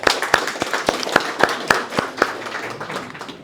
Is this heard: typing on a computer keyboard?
no